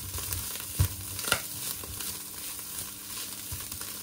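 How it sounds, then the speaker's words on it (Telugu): Chicken frying on a high flame for street-style noodles, with a steady loud sizzle and a couple of sharp stirring clanks in the pan. "హై ఫ్లేమ్లోనే ఉంచి ఫ్రై చేసుకోవాలండి."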